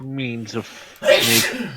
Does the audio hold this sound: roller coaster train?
no